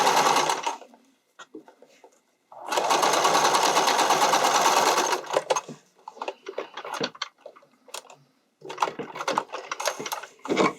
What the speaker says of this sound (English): you're just going to cover that initial shoulder seam and sew right over it